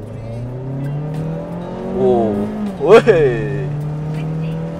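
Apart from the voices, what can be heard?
Mazda CX-3 accelerating hard in sport mode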